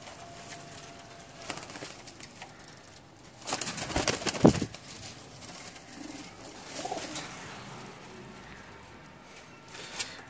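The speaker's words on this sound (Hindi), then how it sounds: "ये रामपुरी बांका कबूतर है आपके सामने" Rampuri Banka pigeons coo and rustle in a loft, with a burst of wing flapping and scuffling near the middle and softer cooing and movement before and after, moderately close and fairly quiet.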